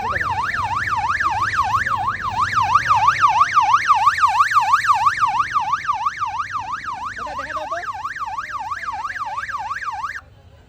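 A loud, close electronic police siren fitted to an autorickshaw wails rapidly up and down in a steady repeating rhythm, cutting off abruptly at the end.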